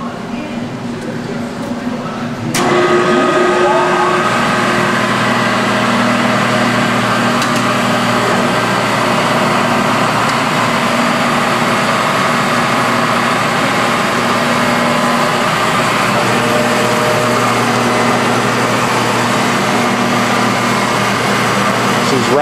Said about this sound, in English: So we'll go ahead and start the machine and show you how this works.